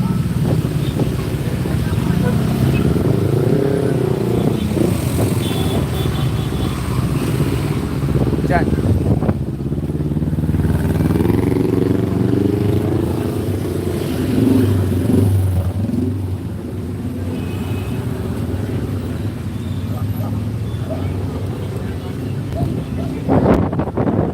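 Rumbling, congested street traffic full of motorcycles and cars, continuous and close, with steady engine drone and wind buffeting the microphone, while someone talks over it.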